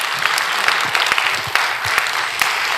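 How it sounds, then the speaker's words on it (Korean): A church congregation applauds during a revival meeting, a loud, steady round of clapping from many hands, with no talk over it. "우리 박수로 하나님께 영광 올리겠습니다."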